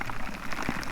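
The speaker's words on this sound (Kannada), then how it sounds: "ಇವಾಗ ಹೆಂಗಿದೆ ಮಳೆ." Steady monsoon rain pours down around Sakleshpur, a dense, close patter of drops on surfaces with no voices.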